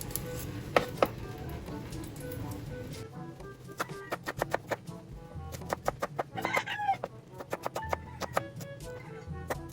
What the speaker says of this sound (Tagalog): Ang susunod ko na pong hiwain ay itong sibuyas bawang.